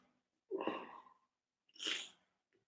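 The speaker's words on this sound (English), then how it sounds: "Yeah, sneeze." Two separate sneezes, close and fairly quiet, each a sharp burst trailing off, with a pause between them and near silence around.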